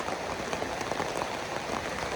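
Steady rain falling in a rural Thai setting, a dense, even patter of drops with no speech over it.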